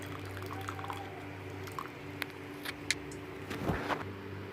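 Whey trickles and drips quietly from curdled paneer through a cheesecloth, with soft irregular drops and splashes over a faint background hum.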